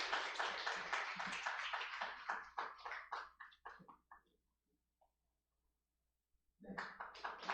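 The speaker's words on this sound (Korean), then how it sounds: "다시 한번 큰 박수 부탁드리겠습니다." A church congregation at a Sunday worship service claps together in a dense, steady burst that gradually thins into scattered claps before falling silent, with speech returning near the end.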